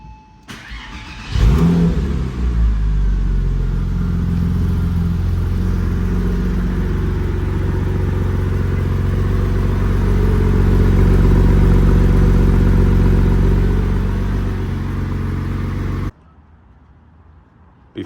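A Porsche 986 Boxster engine with a new Circuit Werks V2 exhaust cranks and catches, then idles with a deep, steady exhaust rumble that swells slightly before cutting off abruptly near the end.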